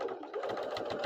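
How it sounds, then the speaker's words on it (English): A sewing machine stitches down part of a handmade apron, its motor whirring steadily and close-up with a busy, continuous needle rhythm and no pauses. "we are going to go ahead and sew that down."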